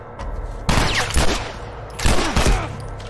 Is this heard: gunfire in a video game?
yes